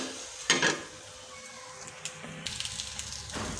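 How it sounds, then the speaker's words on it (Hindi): Chicken koftas frying lightly in a pan, with soft sizzling that swells briefly near the start and again toward the end, along with faint clinks of a utensil against the pan; no one speaks. "तो अब इसमें मैं हल्के हल्के इनको फ्राई कर लूँगी।"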